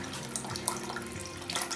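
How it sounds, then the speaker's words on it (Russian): Warm water pours steadily into a pot holding a three-litre jar for pickling tomatoes, a continuous close rushing splash with slight bubbling, no voices. "Доливаем еще теплой воды, столько, чтобы вода доходила примерно до половины вот трехлитровой банки."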